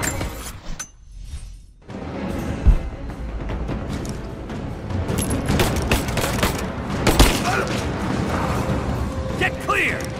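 Rapid bursts of gunfire crackle in Rise of the Tomb Raider, with loud, sharp shots and clattering impacts, mixed with shouting voices throughout.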